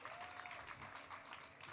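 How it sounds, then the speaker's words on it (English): An outdoor crowd at a Diwali ceremony in Melbourne's Federation Square keeps clapping, an even, sustained patter of many hands that sounds fairly quiet and somewhat distant. "I need this applause going for a little longer"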